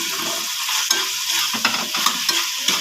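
Spices and sauce frying in a pan for semolina prawn chilli, a bright steady sizzle broken by a few sharp stirring knocks and scrapes.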